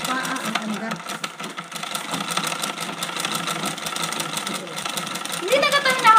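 A pedal-powered treadle sewing machine runs in a steady rapid clatter of needle strokes for the whole stretch, with people talking over it.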